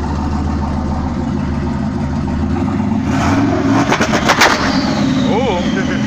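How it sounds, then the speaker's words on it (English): A Chevrolet Caprice Brougham with an LS engine and exhaust run to the rear idles with a low rumble, then revs sharply in a rapid burst of loud crackling pulses before settling. "he's super sleeper with the exhaust all the way back here. Oh, he just opened it up."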